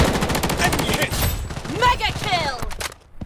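Gunfire in the mobile shooter Project Bloodstrike, rapid bursts of automatic shots rattling loudly and continuously, with a voice talking over the shooting.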